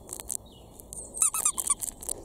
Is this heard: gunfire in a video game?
no